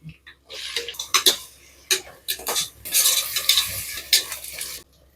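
Crushed shallots and garlic sauté in a pan for a mutton kuzhambu, with bursts of loud sizzling and close spatula stirring and scraping against metal, no talking.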